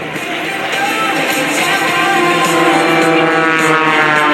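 Loud, steady drone of propeller aerobatic airplane engines flying a mirror roll at an airshow, a continuous humming roar that holds without a break.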